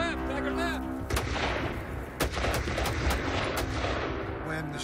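Gunfire during a police shooting of escaped wild animals at an exotic animal farm in Zanesville, Ohio: several loud sharp shots ring out in irregular succession over a steady background rumble, with sharp cracks spaced roughly a second apart.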